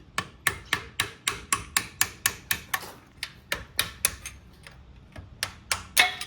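Repeated sharp metal hammer strikes on a car's control arm in a steady, fast rhythm, about two blows per second, close and loud, with a brief pause midway before the blows resume.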